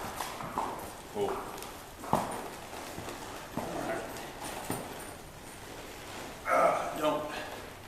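Horse hooves clip-clop in an uneven walking rhythm during ground-drive training, with sharp, moderately close strikes scattered through a soft background while a person talks.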